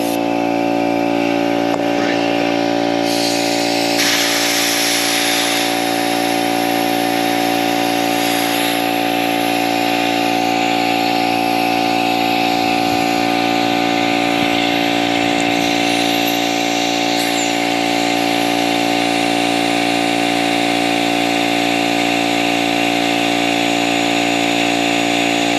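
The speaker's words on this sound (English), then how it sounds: "Air compressor." An air compressor line blows out the last differential gear oil on a Ford E350 van, a loud continuous hiss and drone filling the whole stretch, with a sharper burst of air near the start.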